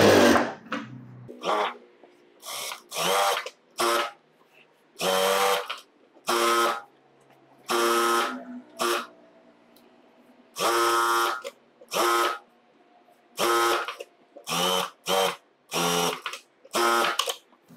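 Electric sewing machine stitching around the lining of a sleeveless top, running in repeated short bursts of loud whirring separated by brief pauses, close up with no talking.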